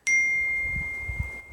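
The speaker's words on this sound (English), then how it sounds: "my phone dinged as I got a text message." A phone chimes with a single bright text-message ding, its clean ringing tone hanging and slowly fading over a low, quiet background rumble.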